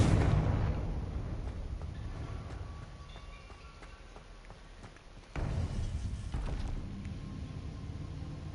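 A Confringo fire-spell blast in the video game Hogwarts Legacy, heard as a deep rumbling boom that fades, then a second sudden burst of roaring low rumble that holds steady.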